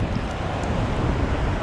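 Ocean surf washing up over a sandy beach during a sand crab hunt, a steady broadband rush close by with wind buffeting the microphone throughout.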